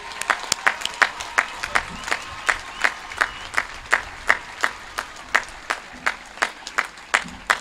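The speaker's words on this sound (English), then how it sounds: "join me a round of applause for America's warrior class" A graduation audience at Kaiserslautern High School claps for the graduates heading into military service. The clapping is steady and rhythmic, with sharp, evenly spaced claps running the whole time and a crowd murmur underneath.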